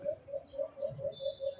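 A baylan bird calls in a series of seven evenly spaced, soft cooing notes, fairly close and alone with no other voices.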